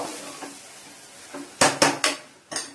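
A metal spoon scrapes and clanks against a pan as ivy gourd fries with gram flour, with a faint sizzle underneath, then four sharp knocks close together near the end.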